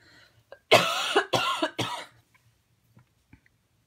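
Three harsh coughs in quick succession, close and fairly loud, followed by quiet.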